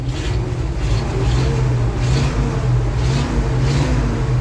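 A car engine, just tuned and running on gas, idles and revs nearby in a loud, steady drone with rhythmic swells of throttle roughly every second, with no voices over it.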